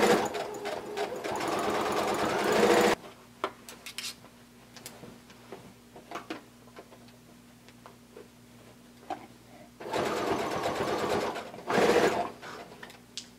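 A sewing machine stitches a thick blanket coat seam from the sleeve in two close, loud runs, with a long stretch of quiet clicks, taps and handling noises between them.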